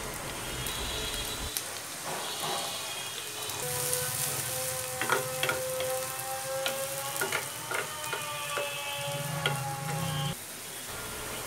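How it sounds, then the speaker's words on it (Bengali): Plenty of sliced onions fry in hot oil for birista, giving a steady close sizzle with crackles and occasional clinks of a spoon stirring the pan. "তেল দিয়ে দিলাম, বেশ একটু পেঁয়াজ বেরেস্তা করব, আর তার জন্য অনেকটুকু পেঁয়াজ দিয়ে দিলাম।"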